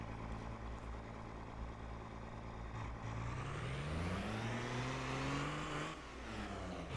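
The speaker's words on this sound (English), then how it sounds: "See, even the engine sounds different on this thing." A farm vehicle engine in Farming Simulator 22 drones steadily and then revs up, its pitch climbing and falling, with a low mechanical rumble throughout and no talking.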